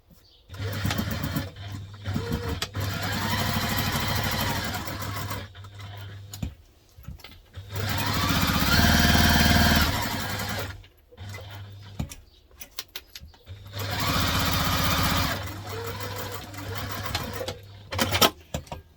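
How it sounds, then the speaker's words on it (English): A sewing machine stitches Crosspack pattern pieces together in three long bursts of steady motor whirring and rapid needle clatter, separated by short pauses with handling noises. "now we're going to stitch these together"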